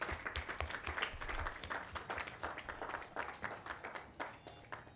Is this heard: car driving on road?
no